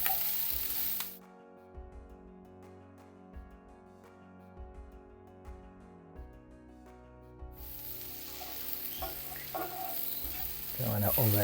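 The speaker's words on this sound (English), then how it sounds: "Don't want to over fry the garlic because the aroma gonna get out." Chopped garlic frying in a pan of olive oil, a steady close sizzle that starts loud, drops back under a low tonal hum, then swells again with scattered crackles and spits.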